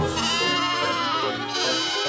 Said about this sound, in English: We've got to get those sheep back, Franny.